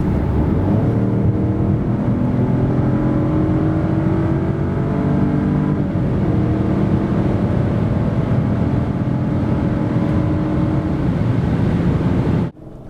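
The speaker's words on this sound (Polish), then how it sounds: "a tak przyspieszenie 90-140 km na godzinę." A 2021 Citroen C4 with the 1.2 PureTech 155 hp engine pulls hard from 90 to 140 km/h. Its loud, steady engine drone climbs in pitch throughout and cuts off abruptly at the end.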